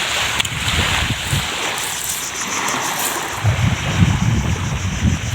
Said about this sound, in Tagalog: yung mga huni ng alon na dumaragasa sa dalampasigan